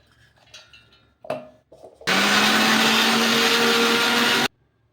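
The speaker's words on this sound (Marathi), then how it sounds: "चना डाळ आपण आता मिक्सरला बारीक करून घेऊयात" A mixer grinder roars loudly for about two and a half seconds, coarsely grinding dry chana dal, after a few light clinks and knocks.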